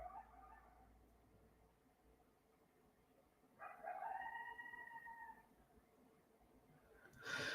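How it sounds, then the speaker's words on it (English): A coyote howls in the wilderness near a house, drawn-out wavering cries rising faintly out of quiet rural background, carrying from a distance with a clearer stretch of howling midway and again at the end. "There's a coyote howling."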